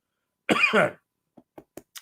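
A single harsh cough, close and loud, followed by a few faint short clicks or small throat sounds, then quiet.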